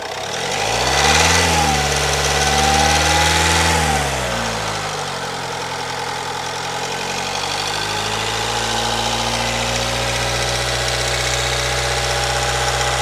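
A 1.6 diesel car engine is revved up, then held at about 1500 rpm, with a loud, close, rough injector clatter over a steady mechanical hum and no talking.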